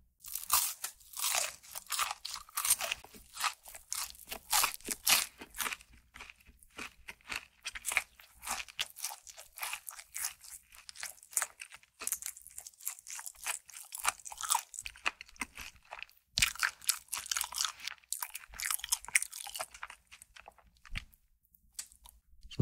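Fried chicken feet crunched and chewed up close, a dense run of crisp, crackling bites and chews that carries on steadily throughout with no talking.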